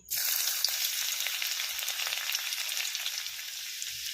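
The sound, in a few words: chopped garlic frying in white oil in a wok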